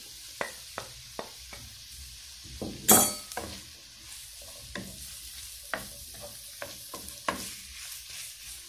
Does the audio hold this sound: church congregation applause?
no